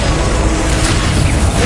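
A fire spell explosion in the Hogwarts Legacy video game gives a loud, continuous, roaring blast of flame and rumble that fills the whole moment, dense and close.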